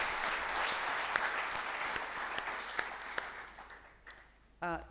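An audience gives a speaker sustained applause at a talk, a steady, even wash of many hands with a few sharper claps standing out, fading slightly before a voice cuts in at the end.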